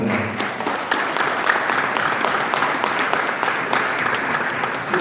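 A crowd at a county sheriff's forum applauds police cadets, with dense continuous clapping and some cheering, sustained and fairly loud throughout.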